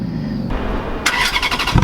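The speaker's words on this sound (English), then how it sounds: "You hear the V8 start up and settle into its idle" Ferrari F430 Spider V8 engine cranking over and catching, a brief starter whir giving way to a rising rumble as it settles toward idle, close and fairly loud with no talking.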